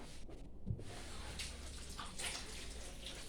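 Water runs steadily from a tap as hands are washed after pottery work, a faint, continuous splashing rush throughout.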